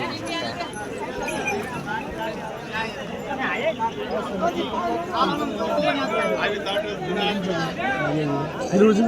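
Dense crowd chatter at the famous Rajur Ganpati bull market in Maharashtra, where Lal Kandhari bull pairs are traded. Many voices overlap in a steady, close hubbub, with occasional hoof clops in the mix.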